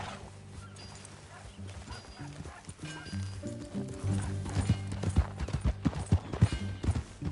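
Rhythmic hoofbeats of a horse riding along in Red Dead Redemption 2, growing louder and more insistent toward the end, over a low musical background.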